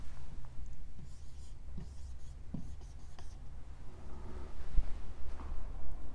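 Pen or pencil scratching on paper as words are written down, with soft steady rubbing strokes and small scrapes over a low room hum, close and fairly quiet, with no one talking.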